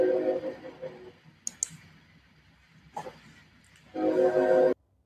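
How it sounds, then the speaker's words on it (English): A train at a nearby station gives a short horn blast near the end, preceded by clicks and faint rail clatter in a quiet room. "we are bringing you this broadcast right next to a train station, so don't be surprised at some of those sounds that you hear"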